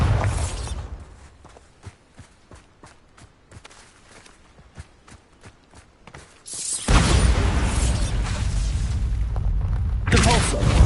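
Bombarda explosion spell in Hogwarts Legacy: a loud, heavy burst erupts after a stretch of quiet footsteps and clicks, with a second blast near the end.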